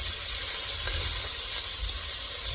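Onions frying in oil in a skillet, a steady bright hiss and sizzle holding evenly throughout at close range, with no voices.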